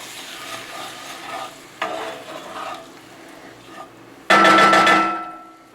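A spoon stirs beef stew liquid in a crock pot, soft scraping and sloshing ending in one louder, brief clattering swirl, with no voices.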